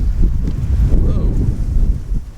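Steady wind gusting outdoors in Southwest Florida the morning after Hurricane Ian, a continuous low roaring rumble buffeting close to the microphone throughout.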